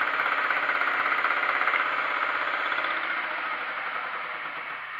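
A gear cutting machine runs at about 1,000 rpm, giving a steady mechanical whir with a rapid fine knocking that fades slightly toward the end.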